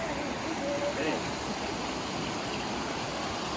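A mountain waterfall on Engineer Pass roars as a dense, constant rush of water, loud and unbroken throughout, with faint talk underneath.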